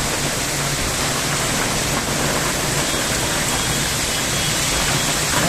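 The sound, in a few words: rain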